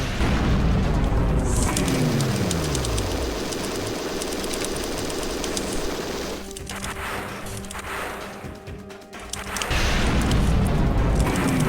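A building explodes in the TerminalFury video game with a loud boom and a falling whoosh, followed by a sustained rumbling, crackling roar that thins out before another heavy burst near the end.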